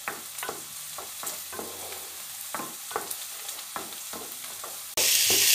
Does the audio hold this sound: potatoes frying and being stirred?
yes